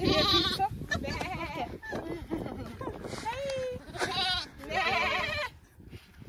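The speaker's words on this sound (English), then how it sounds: "Oh, it's your sheep." Sheep bleat several times, close and loud, at a rural homestead in Ethiopia, mixed in with people talking nearby.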